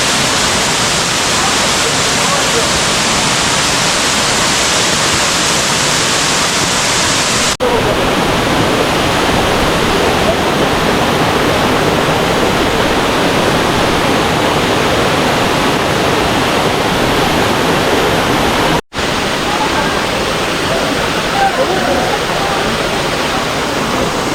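Yeonsan Falls on Naeyeonsan in Pohang, South Korea, roars in a loud, unbroken rush, steady throughout with a couple of abrupt brief dropouts.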